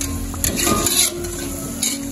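Vegetable fritters (bakwan sayur) frying in hot oil give a steady close sizzle with scraping and stirring clatter from a utensil in the pan, no voices present.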